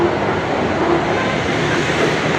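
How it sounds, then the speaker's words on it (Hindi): Continuous rumbling roar of a metro train in motion, a dense steady rail noise with no talk. "यह है मेट्रो ट्रेन"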